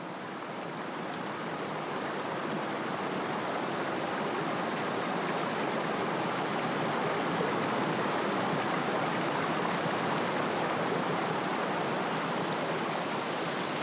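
A river in the Grwyne Valley near Abergavenny rushes in a loud, continuous broadband roar that holds steady throughout, with no voices.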